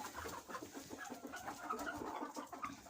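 Hens cluck softly in a backyard on a warm day, a quiet, scattered run of short clucks and murmurs heard from close by with no talking.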